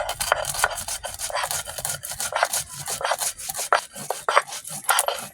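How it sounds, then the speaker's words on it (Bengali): Cumin and chili are ground by hand on a flat grinding stone, a steady run of close, scraping rubs and grinding strokes repeating quickly for several seconds with no voices. "জিরে মরিচটা বেটে নেবো এবার।"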